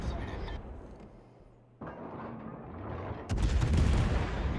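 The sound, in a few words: battleship guns firing in video game World of Warships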